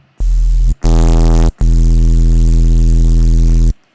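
A buzzy, distorted bass tone made from a sine wave and noise run through distortion plays in three loud bursts, gritty and harmonically rich, with a crunchy hiss layered over the low hum.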